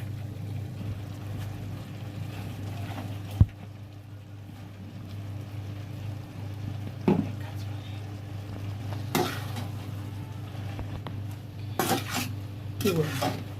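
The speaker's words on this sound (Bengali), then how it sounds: "আমি একটু নাড়াচাড়া দিচ্ছি।" Coriander leaves are stirred in a pan to soften them. Occasional scrapes and clinks of a utensil against the pan sound over a steady low hum and a faint sizzle.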